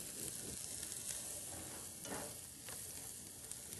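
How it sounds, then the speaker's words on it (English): Tofu scramble with vegetables sautéing in margarine in a pan, a steady close sizzle with occasional scrapes of a spatula stirring through it, no voices. "we're going to saute that a little bit"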